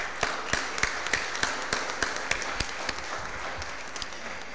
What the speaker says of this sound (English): Can you join me in one more round of applause for them?